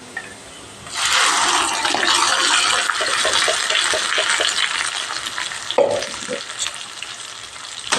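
Onions fry with a freshly ground paste in a pan for a village-style rabbit curry. A loud, close sizzle bursts in after a quiet second and carries on, with scattered stirring taps and one sharper clunk near the end.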